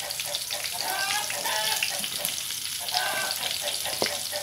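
Sliced vegetables, including red radish and jicama, sizzle and crackle as they are stir-fried briefly in a hot pan, close up, with a voice speaking over the frying.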